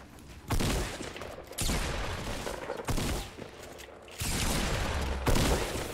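Rapid bursts of automatic gunfire in the Fortnite battle royale game, several loud sustained volleys separated by short gaps, close and dense with no talking.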